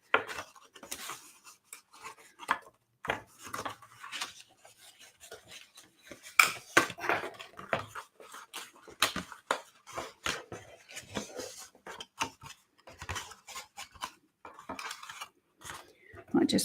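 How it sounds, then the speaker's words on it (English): Paper being scored with a trimmer for a handmade card, a series of short scratchy scraping and tapping strokes close by, irregular and moderately quiet. "might just move my trimmer for a sec while I score these properly"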